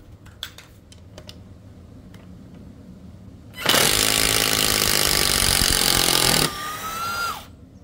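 A cordless brushless impact driver whirs in one loud, continuous burst for about three seconds after soft clicks and handling noises, then winds down into a fading spin, with no talking.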